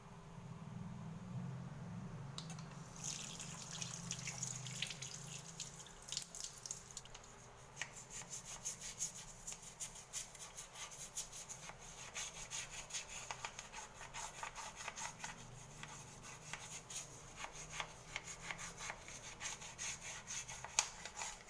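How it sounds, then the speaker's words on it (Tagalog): A brush scrubs a sink during household cleaning, making quick, rhythmic rasping strokes that continue for a long stretch, close up, over a low background hum, with no talking. "ibabrush ko yan. Dahil tapos na ako maglaba, ito naman ang gagawin ko. Lilinisan ko yung lababo."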